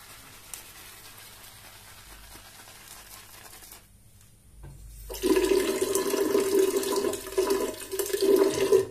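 Tap water runs into a sink for lathering shaving soap with a brush: quiet room noise, then a loud, steady rushing stream that begins suddenly and continues to the end.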